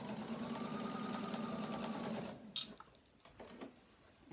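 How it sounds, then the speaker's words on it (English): A sewing machine runs a basting stitch across the top of a pants front pocket, a steady close whirring hum that stops partway, followed by a few soft clicks and fabric handling sounds. "I'm gonna just do a little basting stitch across the top"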